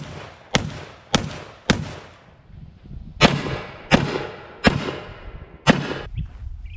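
A GForce Arms GFZ shotgun loaded with buckshot fires seven loud, booming shots outdoors at an uneven pace. Each blast rings out with a short echoing tail.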